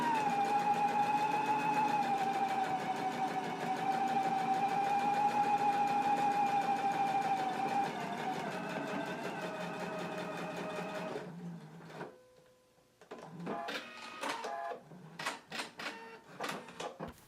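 A sewing machine bastes across the notched edge of a shirt collar, its steady motor whine running for about eleven seconds before stopping, followed by scattered handling clatter.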